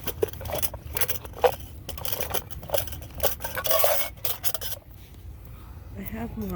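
A Pathfinder camping cup, its lid and a camp kit are handled beside a creek, giving close, irregular metallic clinks, scrapes and rattles with a voice speaking quietly at times.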